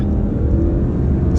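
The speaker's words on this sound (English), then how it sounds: "We're just gonna simply let off the brake and onto the gas, foot to the floor." A 2021 Alfa Romeo Stelvio Ti Q4 SUV accelerating at full throttle, a steady loud engine rumble and road noise with no talk, heard from inside the cabin.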